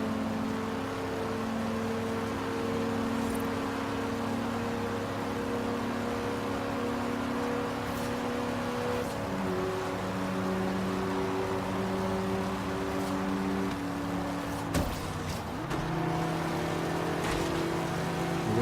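A Corvette Z06 engine in Forza Horizon 3 drones at high revs, then drops sharply in pitch at each upshift into fifth and sixth gear, loud and steady with no talking.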